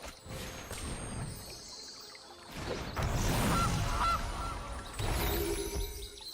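Cartoonish honking from a goose card in the digital card game MTG Arena, a few short honks sounding through busy game effects and music, fairly loud and close.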